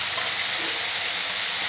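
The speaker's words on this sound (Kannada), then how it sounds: "ಈಗ ಒಂದು 5 ನಿಮಿಷ ಫ್ರೈ ಆಗಲಿದೆ ಎಣ್ಣೆಯಲ್ಲಿ" Capsicum and carrot fry in oil with a loud, even, close sizzle that holds steady and unbroken for the whole moment.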